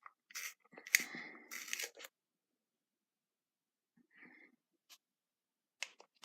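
A few short bursts of scraping and grinding, like a pencil being turned in a sharpener, followed by quiet and a couple of faint clicks.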